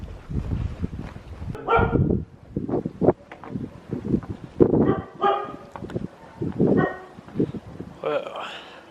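Guard dogs bark in repeated loud bursts at Jaisalmer Fort, up close, amid wind buffeting the microphone and voices talking between the barks.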